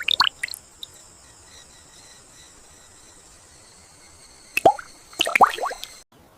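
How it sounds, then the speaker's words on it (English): Honeydew dripping onto still water in a rice paddy: a few soft, isolated plops and drips at the start and again near the end, separated by a long quiet stretch of faint ambient hiss. "Honeydew drips down onto the water"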